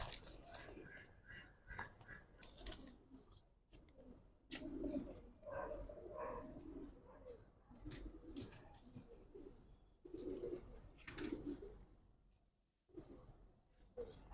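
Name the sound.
pigeons cooing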